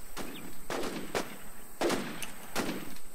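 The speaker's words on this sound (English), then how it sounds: "Someone just shot." Gunshots in the video game Infestation: four distant, evenly spaced reports with short echoing tails, moderately loud, spread over a few seconds with brief quiet gaps between them.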